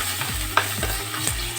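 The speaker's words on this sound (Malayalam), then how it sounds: "കുറച്ച് ഉപ്പും ഒഴിച്ചതിന് ശേഷം നമുക്ക് നല്ലതായിട്ട് ഇളക്കാം." Shrimp masala being stirred in a pan with salt, giving a few scraping strokes over a steady close sizzle, with no voices.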